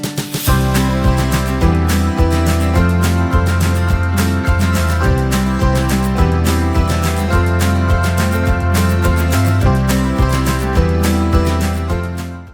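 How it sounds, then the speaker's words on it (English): Dense, steady full-band indie folk arrangement, with a pulsing low end, strummed chords and regular percussive hits running loud and continuous for about twelve seconds before a quick cutoff. "we are going to make an indie folk song and it's gonna sound like this"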